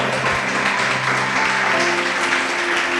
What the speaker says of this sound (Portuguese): Glória ao Senhor com suas palmas